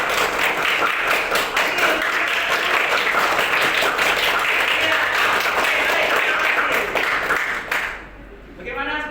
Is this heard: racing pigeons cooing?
no